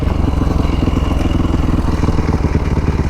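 A Honda CRF450R motorcycle in a lot practice session runs with a loud, close, rapid thumping engine pulse, steady and throbbing throughout without clear revving swells.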